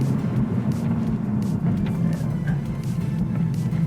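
Manual Toyota Supra A91 engine driven hard through corners with downshifts into second gear; a steady, close, loud low rumble and drone runs throughout with no talking.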